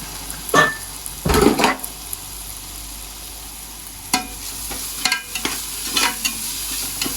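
Tomato paste sautéing in a pan for chicken kabsa: soft steady sizzle with several louder scraping stirs of a spoon against the pan, spaced irregularly, no talk.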